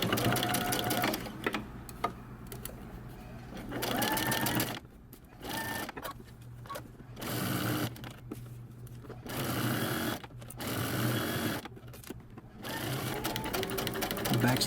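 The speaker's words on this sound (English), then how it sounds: "we're gonna stitch it down using 5/8 of an inch seam allowance, all the way down the side, across the top, and down the other side" Sewing machine stitching a 5/8-inch seam on a men's button-up shirt, running in steady whirring bursts of a few seconds each, separated by short pauses, close and loud with occasional talk between runs.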